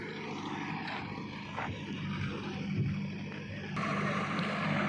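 A heavy diesel engine drones steadily at close range, with a rough rumble and clatter that swell louder toward the end, as a JCB backhoe loader levels an open ground.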